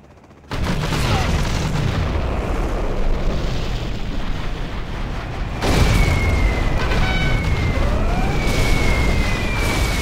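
Aircraft bombs exploding in Command & Conquer Generals Zero Hour: a dense, loud barrage of booming blasts rolls on continuously, swelling into a fresh burst partway through with whistling, descending tones over the rumble.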